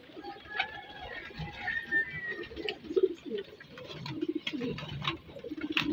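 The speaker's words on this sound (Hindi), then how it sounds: "ये बिल्कुल नए कोरे कबूतर लेके हैं" Pigeons coo in soft, repeated throaty calls, several birds overlapping close by with uneven rhythm, along with light shuffling and background chatter at a low level.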